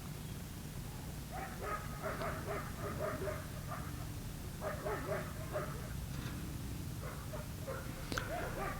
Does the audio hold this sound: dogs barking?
yes